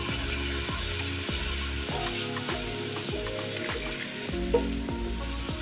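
Tomatoes fry with browned onions and spices, giving a loud, steady close-up sizzle with a few soft stirring scrapes mixed in and no talking.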